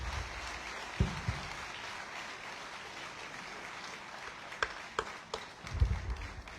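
An audience applauds at a commencement address by President Boakai, a soft, distant wash of clapping with a few sharper claps and thumps standing out, fairly faint overall.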